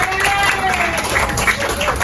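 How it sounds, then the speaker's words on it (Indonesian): A primary school class claps during a lesson, a burst of scattered applause from many hands in a room, mixed with children's voices. "Ya, tepuk tangan dulu dong."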